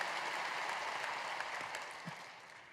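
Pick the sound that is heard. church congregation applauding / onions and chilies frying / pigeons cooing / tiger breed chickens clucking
church congregation applauding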